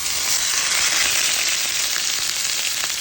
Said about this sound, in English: now that you have your skillet nice and hot, you're going to add your steak